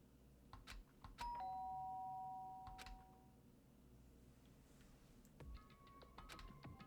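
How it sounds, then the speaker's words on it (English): A doorbell in the Danganronpa: Trigger Happy Havoc video game rings with a clear two-note ding-dong, followed later by a fainter chime, amid soft clicks and ticks in a quiet room. "did I hear the doorbell?"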